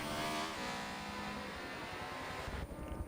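Race cars in a WEC Daytona sim racing game scream past with a loud, steady high-revving engine note, pitch shifting as they pass one another, a sharp change near the end.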